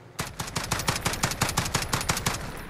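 Rapid full-auto burst from an FAL OSW (DSA 58 OSW) rifle in Call of Duty Modern Warfare, a steady stream of loud, close gunshots fired uncontrolled for nearly three seconds with no voice.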